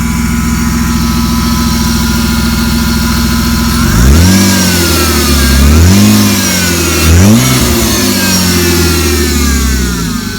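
A Honda S2000 drift car engine idling steadily, then revved hard three times in quick succession, each rev rising and falling loudly up close, with no voices.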